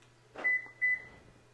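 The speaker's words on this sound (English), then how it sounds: "Beeps, unlocks, now it acknowledges." Toyota Tacoma (2016–2022) responding to a remote key fob unlock with two short, clear electronic beeps in quick succession against a quiet background.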